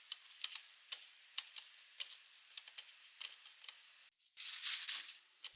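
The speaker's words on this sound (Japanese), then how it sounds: "フライパン用ホイルで焼きます。" Salmon dusted with salt, pepper and rice flour frying in a pan on frying-pan foil, a quiet, close crackle of small spits and ticks, rising to a louder burst of sizzle near the end.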